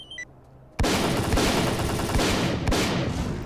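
Gunfire in Stalker: Call of Pripyat breaks out suddenly after a quiet moment, a loud close run of rapid shots cracking in a dense rhythm, with a few sharper bangs toward the end.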